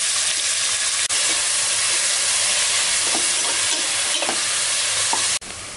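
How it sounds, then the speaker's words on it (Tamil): Large onions sizzle and hiss steadily in hot oil while being sautéed for mutton biryani, with a few scraping stirs and clinks over the continuous loud frying. "பெரிய வெங்காயம் நல்லா கலர் மாறட்டும்,"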